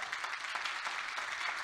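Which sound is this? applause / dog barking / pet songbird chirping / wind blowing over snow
applause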